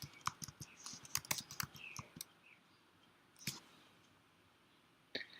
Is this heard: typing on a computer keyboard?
yes